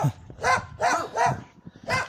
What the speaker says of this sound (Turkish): İki tane köpek.